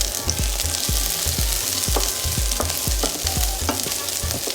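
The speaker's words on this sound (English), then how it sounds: "I'm going to put that into that pan there with the oil. And we're just going to sweat these off" Sliced garlic sweating in oil in a pan gives a steady, close sizzle with repeated soft knocks of stirring throughout, and no voices.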